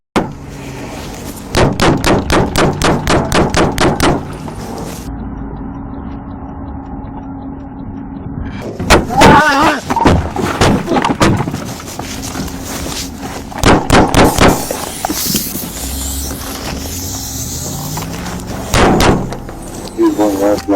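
Rapid bursts of gunfire ring out near and loud at a hillside scene where a police officer is down, cracking in quick volleys with pauses between them and shouted talk mixed in.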